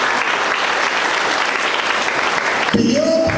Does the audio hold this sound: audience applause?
yes